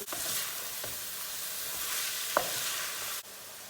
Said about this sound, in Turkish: Soğanımızı ilave ettik, karıştırdık etlerle yağ ile beraber.